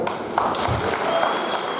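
Audience applause at a tattoo festival, a dense, continuous wash of clapping from a crowd, loud and sustained throughout.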